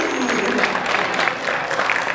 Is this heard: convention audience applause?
yes